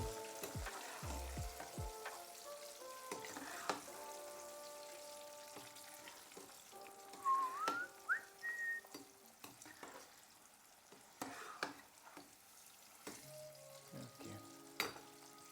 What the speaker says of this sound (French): Parce que la patate douce, ça cuit vite, en fait. Dans la friture.